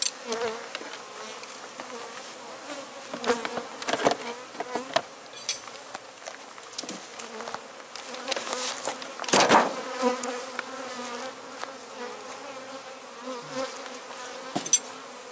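Honey bees from a weak hive buzz in the apiary in a steady droning hum, with individual bees zipping close past the mic in louder passes and no talking.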